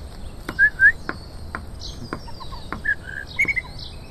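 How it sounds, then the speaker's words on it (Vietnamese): Several birds chirp in a garden in short bright tweets, a few clear calls standing out over faint background chatter and insect buzz. "Để tôi chăm mấy con chim."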